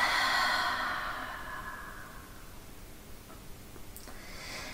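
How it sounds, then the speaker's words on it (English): A deep belly breath during a yoga ab workout, with a long airy exhale up close that fades gradually over a few seconds into quiet. "Deep belly breath."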